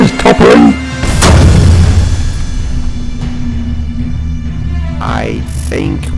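A toppling ship crashes down in a sci-fi drama scene, heard as a deep rumbling boom and crash that swells then lingers as a low hum, with voices speaking around it.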